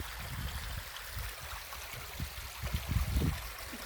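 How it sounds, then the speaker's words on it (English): A small stream flows into the Westfield River at Robinson State Park in Feeding Hills, Massachusetts, giving a steady, soft outdoor rush of water with low rumbling swells that build slightly toward the end. "there's a small stream that comes in here"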